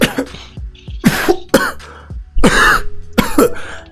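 A man coughs repeatedly in harsh, loud bursts with throat clearing between them, close up.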